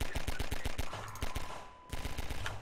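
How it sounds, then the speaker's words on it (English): A gun turret in the Half-Life 2 video game fires rapid bursts of automatic gunfire, loud and rhythmic with a brief pause in the middle before the shots resume. "everyone conveniently line up so I can shoot you with this gun turret"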